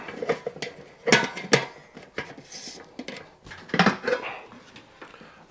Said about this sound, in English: I'll drop the filter on now.